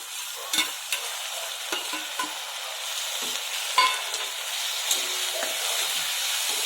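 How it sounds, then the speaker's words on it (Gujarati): Chopped onions and tomatoes sizzle steadily in a hot pan for paneer bhurji, broken by several sharp scraping stirs of a spoon against the metal. "ડુંગળી હવે લાઇટ પિંક કલરની થાય ત્યાં સુધી આપણે એને સાતળશું"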